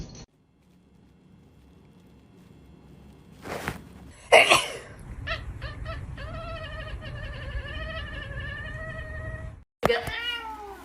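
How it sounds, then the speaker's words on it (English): A cat locked in a bathroom meows repeatedly in drawn-out, wavering cries, fairly close, following a few thumps and rustles, with a brief burst of human voice at the end. "You get locked in the bathroom and meow all night"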